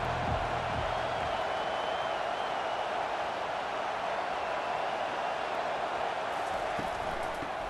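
A stadium crowd at a college football game, Ohio State against Texas, keeps up a steady, dense roar throughout, loud and unbroken with no clear individual voices.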